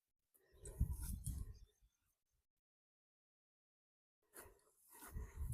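A dog barks faintly from a distance near a horse trail and paddock, giving two muffled, low bursts separated by a few seconds of near silence.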